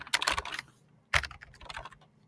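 Keystrokes on a computer keyboard while entering a CAD export command, two quick bursts of close, clicky typing separated by a short pause, with no voices.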